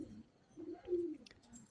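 Pigeons bathing in a water tub give a soft, low cooing call, faint and close, heard for just a moment.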